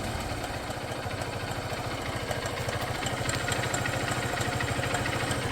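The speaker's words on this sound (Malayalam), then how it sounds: "എൻജിൻ്റെ സൗണ്ടൊന്നും വേറെ പ്രശ്നമൊന്നുമില്ല കേട്ടോ" A 2013 Honda Unicorn motorcycle engine idles steadily up close, a continuous even putter with a fast regular pulse and no voices over it.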